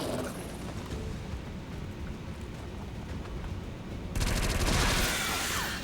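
Battle noise from the XCOM 2 video game: dense, continuous crackling gunfire and rumbling that swells abruptly louder into a brighter burst of explosions near the end, with nothing spoken.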